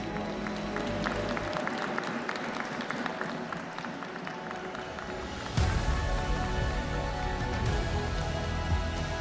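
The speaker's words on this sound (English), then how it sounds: "please one more time, a round of applause for Wei Yi." Steady applause from a crowd at a chess event fills the whole stretch with dense clapping, and it swells louder partway through.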